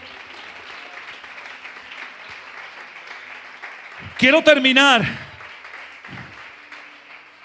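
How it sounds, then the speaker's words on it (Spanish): Congregation at a Spanish-language church service claps steadily in the background while a preacher talks, and a loud, strained vocal outburst briefly rises over the clapping. "Dale un fuerte aplauso a Dios, por favor."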